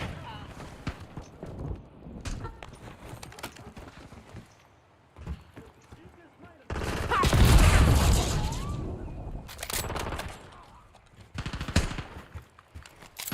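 Gunfire in Black Ops 7 gameplay, with bursts of shots and a loud sustained stretch of fire and blasts in the middle, mixed with in-game voice callouts.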